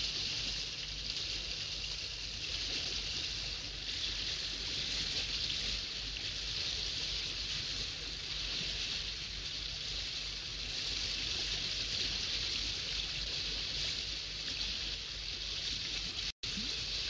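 A waterfall inside a cave roars as a constant, even rush of water, fairly distant and quiet, with a brief sharp click near the end.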